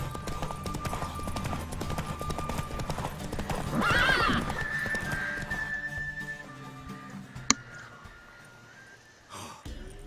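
Horse hooves clip-clop along with a whinnying neigh midway, over a busy, music-like soundscape in The Witcher 3, with a sharp click near the end.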